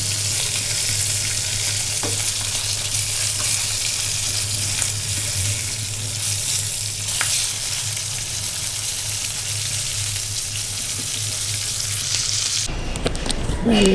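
Fish sizzles and spits steadily in hot oil in a frying pan in a home kitchen, a loud continuous crackle with occasional stirring, ending with a brief clatter.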